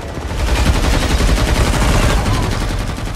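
Dense, loud gunfire rattles continuously as mafia gunmen open fire on guests at a wedding in an action film, rapid bursts overlapping into a sustained barrage with no pause.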